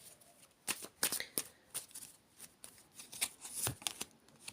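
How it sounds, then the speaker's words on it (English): Tarot cards are shuffled by hand in a close, quiet series of crisp riffling snaps and soft slaps, irregular bursts with no voice. "So I'm going to get 5 cards out here today."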